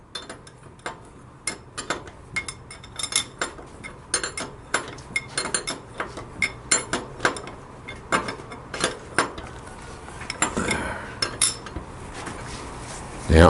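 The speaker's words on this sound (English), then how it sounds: "So all I'm doing now is tightening the axle nut." Axle nut being tightened on the front wheel of a 1947 Harley-Davidson Knucklehead, a steady run of ratcheting clicks and metallic clinks in a workshop, close and rhythmic, with a louder knock at the end.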